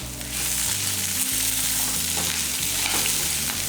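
Chillies, dal and coriander leaves sautéing in a pan for a pirandai thuvaiyal, a loud continuous sizzle with stirring noises running throughout, no voices.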